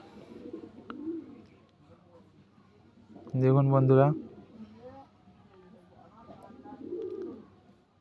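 A pet pigeon gives one loud, close, rolling coo in the middle, with a person talking softly before and after it.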